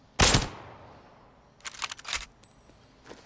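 Sniper rifle fire in the shooter game Arena Breakout, one loud, sharp close shot at the start, followed a second later by a burst of quieter cracks and clicks.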